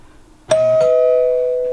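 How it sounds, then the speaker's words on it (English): An old doorbell in a dusty, abandoned mansion gives two chimes, a bright ding and a lower dong a moment later, the second tone ringing on and fading slowly in an otherwise quiet room. "I don't know if you can hear that, but the doorbell still works."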